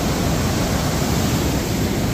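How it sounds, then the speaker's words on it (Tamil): Water rushes out of the Chembarambakkam lake spillway in a dense, steady roar that holds at constant loudness with no pauses and no voices. "அந்த தண்ணி எப்படி ஏரியிலேருந்து வெளியே போகுதுன்றதை பார்க்கறதுக்கு எங்களுக்கு ரொம்ப ஆர்வமாக ஆசையாக இருந்துச்சு."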